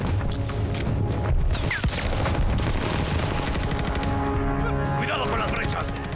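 Rapid gunfire and explosive booms from the Call of Duty Vanguard video game blend into a dense, continuous barrage, loud and close throughout.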